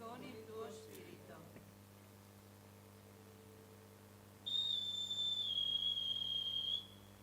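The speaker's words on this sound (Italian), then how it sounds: "Il fischio che abbiamo sentito" A single sustained whistle sounds clearly for a couple of seconds during a Mass in Caorera, following faint murmuring and a low steady hum.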